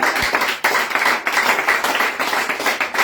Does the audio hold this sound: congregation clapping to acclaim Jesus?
yes